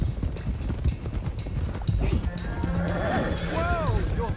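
Horses gallop in Red Dead Redemption 2, with steady clip-clop hoofbeats and a loud, rising neigh near the end. Voices talk over the riding throughout.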